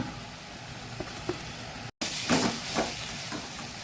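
Fenugreek leaves fry in a hot pan for a methi matar gravy, giving a steady soft sizzle with a brief gap, then louder hissing crackle as the leaves are stirred.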